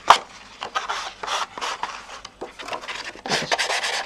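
A nail file rubs back and forth along a paper edge on a craft treat pouch, making repeated close, dry rasping strokes of varying length without talk.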